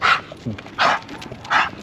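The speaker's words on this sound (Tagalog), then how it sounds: "Ang lalakas ng mga aso natin, grabe." Dogs bark in three loud, close bursts spaced under a second apart, with brief quieter sounds in between.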